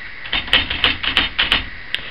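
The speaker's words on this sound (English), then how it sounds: "single element typewriter." Typing on a Hammond Folding Multiplex, a single-element typewriter with a type shuttle: a run of sharp, close mechanical keystrokes in an uneven rhythm, roughly eight clacks in two seconds with no voices.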